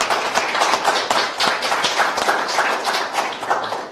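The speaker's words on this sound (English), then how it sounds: "McMorris a round of applause." An audience at an outdoor falcon banding event with the Pennsylvania Game Commission breaks into steady applause, a dense close patter of many hands that keeps going without talk.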